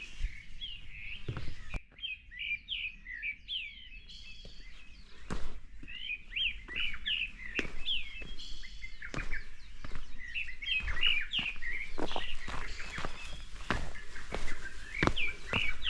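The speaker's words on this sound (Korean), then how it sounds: "새소리가 굉장히 아름답습니다." Birdsong fills a dense mountain forest at dawn on Yaksan Island, many birds chirping and trilling in overlapping phrases, with footsteps crunching on a stone stair path close by.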